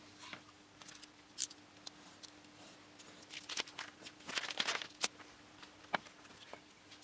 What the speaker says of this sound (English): So now we just cut this out and stick it to this